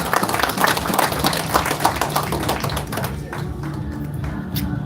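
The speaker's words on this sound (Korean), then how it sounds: "박수하겠습니다." A crowd at a Korean church emergency prayer gathering claps, with distinct sharp hand claps over a busy room, the clapping thinning out toward the end.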